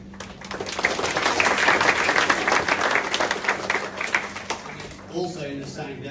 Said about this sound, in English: I want to give everyone a round of applause for this.